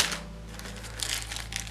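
Thin plastic crinkles and rustles in quick bursts close by, over a low steady hum.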